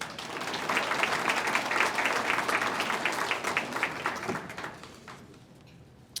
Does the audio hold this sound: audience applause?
yes